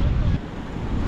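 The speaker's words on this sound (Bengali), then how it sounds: "এখানে এখন প্রচুর বাতাস" Strong wind buffets the microphone at Sampan Beach near Cox's Bazar just after rain, a loud, close, continuous low roar with surf-like rushing throughout.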